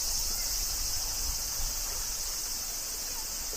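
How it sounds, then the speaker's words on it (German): Cicadas buzz in a steady, high shimmering drone across the countryside around Hinamizawa, continuous and fairly loud throughout with no break. "Ja, definitiv Zikaden"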